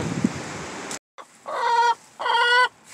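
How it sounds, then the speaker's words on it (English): Backyard chickens clucking in a coop during windy severe weather, with a noisy burst at the start, then a brief silence and two sustained, harmonic clucking calls close by, with no talk. "Hey chickens, you mad at me?"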